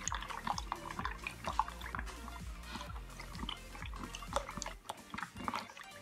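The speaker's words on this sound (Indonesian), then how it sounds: "ini kita aduk sampai agar-agarnya larut" A spoon stirs full cream milk with agar-agar powder in a pot, giving quiet, rhythmic liquid swishes and small clinks repeating about twice a second, close up, with no talk.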